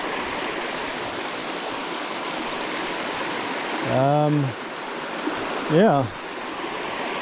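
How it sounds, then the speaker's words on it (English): The Waitawheta River in New Zealand's Kaimai Range rushes in a steady, close, broadband flow throughout, with a voice briefly speaking over it twice near the end. "The last river crossing was Mangakino, and this one is the Waitawheta River."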